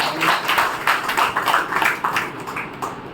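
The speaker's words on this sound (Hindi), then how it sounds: "तालियां बजाइए।" Audience applause during a Brahma Kumaris Rajyoga class, a dense patter of many hands clapping steadily for about three seconds and fading slightly toward the end.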